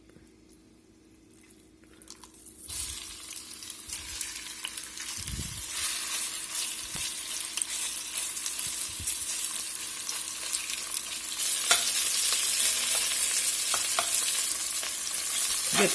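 Pork hits hot cooking oil in a cast iron pot and breaks into a steady, loud sizzle that builds after a quiet start and keeps frying continuously, with occasional stirring scrapes.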